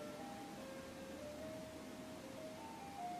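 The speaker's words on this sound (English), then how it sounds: "an ice cream truck's outside" An ice cream truck's jingle plays faintly outside, a thin tinkling melody of sustained tones drifting over steady background hiss, with no talking.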